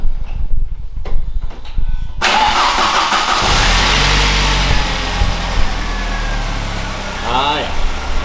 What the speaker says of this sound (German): Machen wir das Auto mal an.